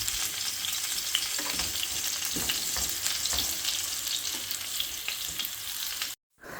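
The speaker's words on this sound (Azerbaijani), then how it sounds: "orta atəşdə o yüz bu yüz qızarana qədər və kartoflar yumşalana qədər qapağı bağlı şəkildə bişirirəm" Potato dolma sizzles and fries in a covered pan over medium heat, a continuous crackling hiss with small pops, steady and close, cutting off briefly near the end.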